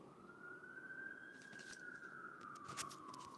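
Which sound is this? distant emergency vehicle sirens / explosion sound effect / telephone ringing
distant emergency vehicle sirens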